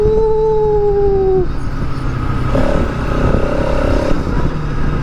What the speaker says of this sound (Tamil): ரேஸ் இன்ஜின் சவுண்டு வந்தது. உங்களுக்கு கேட்குதா?